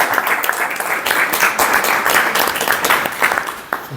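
Audience applause fills the room at a political conference talk in Palencia, Spain: dense, steady clapping from many hands throughout, with no voices on top.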